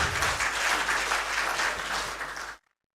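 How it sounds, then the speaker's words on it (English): An audience at a live anniversary celebration gives a big round of applause, dense and steady for about two and a half seconds before stopping abruptly. "A big round of applause to Spandan."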